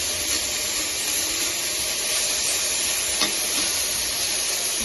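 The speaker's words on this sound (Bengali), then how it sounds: "লবণ হলুদ দিয়ে সুন্দর করে নাড়াচাড়া করে একটু ভেজে নিতে হবে" Bitter gourd and potatoes fry with salt and turmeric in a pan, giving a continuous close hiss of sizzling and steam with a faint stirring clink partway through and no one speaking.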